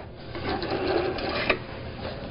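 A sewing machine back stitches a tote bag seam, a steady close mechanical whir with a soft rasping texture and a small knock partway through, without any talking.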